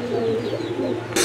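A pair of fancy Lahori pigeons with feathered feet coo softly and close by, a low rolling call repeated a couple of times, with a brief noise at the end.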